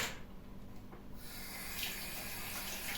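Tap water runs steadily into a sink as items are rinsed clean during household cleaning, a continuous close splashing stream with no talk.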